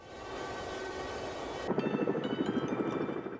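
Firefighting helicopter working a wildfire near homes, a steady rotor and engine drone that swells louder and takes on a throbbing chop partway through, with no voices.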